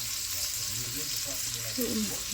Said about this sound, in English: I slice it thinly and saute it for our pancit.